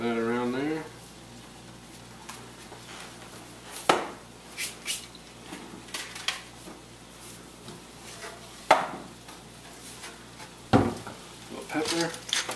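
Chicken fried rice sizzles steadily in a pan while a utensil stirs it, giving a constant frying hiss with intermittent scraping and clinking strokes, and a person speaks briefly at the start.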